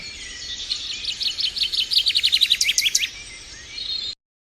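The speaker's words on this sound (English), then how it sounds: "there is a horse and some birds in this episode" Small birds chirp outdoors in a quick run of bright, rhythmic tweets that build and then break off, fairly close and clear over a quiet background.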